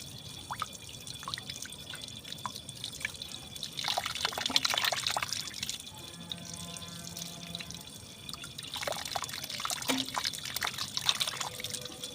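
Tap water running and trickling into a sink while rock fish are rinsed under it, a steady close splashing flow with dripping, swelling louder in bursts as the fish are moved through the stream.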